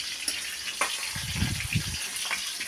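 Fish frying in oil in a small home kitchen, soft bursts of sizzling and spitting that swell and fade in the middle, fairly quiet and close.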